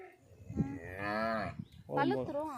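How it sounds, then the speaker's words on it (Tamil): A cow lows nearby in two long, loud moos, the first drawn out and wavering, the second shorter and rising, with no other sound competing. "இந்த மாடு கத்துது"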